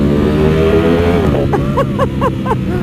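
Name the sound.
motorcycle titanium exhaust revving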